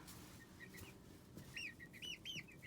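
Barred Plymouth Rock chicken clucking outdoors in a garden, a few soft clucks and short squawky calls in the second half over faint background noise, no voices.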